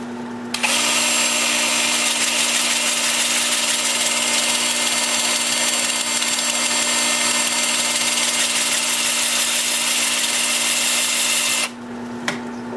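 A power sander works across the flat top of a cherry burl winged bowl, a loud steady whine running nearly unbroken for about eleven seconds before cutting off near the end, with no talking.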